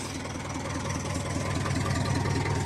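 A Massey Ferguson 148 tractor engine running steadily in a frozen yard at minus ten Celsius, with a continuous close diesel rumble and a fast rhythmic knock, no pauses.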